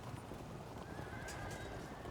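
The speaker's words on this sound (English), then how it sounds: "Let's shove off these Nomad Horse Archers." In the medieval strategy game Field of Glory II, nomad horse archers' hooves clatter and a horse whinnies, faint and distant under a quiet hiss, with a brief thin whine midway.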